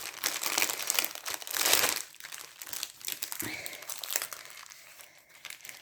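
Crinkly plastic packaging of a Christmas village craft kit rustles and crumples as it is opened, loud bursts of crackling near the start easing into softer intermittent crinkles.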